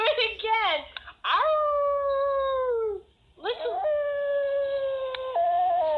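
A dog howls in long, drawn-out tones, rising then holding steady, with a brief pause before another sustained howl; clear and close, with little else around.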